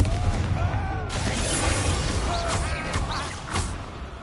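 A Confringo fire spell cast in the video game Hogwarts Legacy gives a loud, roaring blast with crackling bursts and sharp pops over about four seconds, with game sounds around it.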